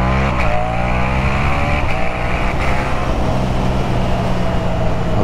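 Two-cylinder Yamaha MT-07 motorcycle pulling out of first gear, a loud, steady engine drone with rising harmonics as it accelerates, rough and continuous without pause.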